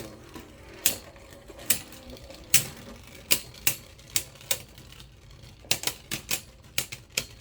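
Beyblade Burst QuadDrive spinning tops, including Guilty Luinor, clashing in a stadium: a series of sharp plastic clacks and ticks over a faint spinning whir, with a quick flurry of collisions near the end.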